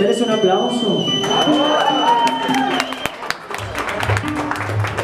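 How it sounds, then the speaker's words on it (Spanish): A birthday-party audience claps and cheers for a youth mariachi band, with scattered sharp claps and whoops building after the music fades out, and voices talking over the applause. "¿será que el mariachi se merece un aplauso?"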